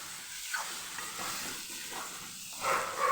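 Kathiyawadi ridge gourd curry, with turmeric and coriander just added, is stirred in a frying pan: a close, steady sizzle broken by rhythmic scraping sweeps that grow louder near the end, with no talking.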